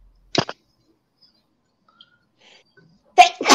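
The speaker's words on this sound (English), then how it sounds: "Got the sneezes." A short, sharp sneeze bursts out near the start, followed by quiet, and then another abrupt burst of sound at the end.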